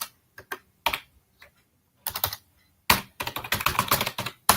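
Code is typed on a computer keyboard in sparse clicks and short bursts, building to a fast, steady run of close, sharp keystrokes toward the end.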